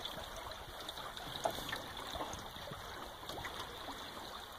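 A river flows nearby at a trout fishing spot, giving a soft, steady trickling and burbling that runs quietly throughout with no one talking.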